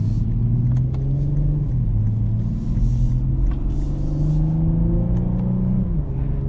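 Engine of a 2024 Lexus IS 350 F-Sport heard from inside the cabin while driving: a loud, steady, grunty low rumble whose pitch climbs and dips as the car accelerates and shifts.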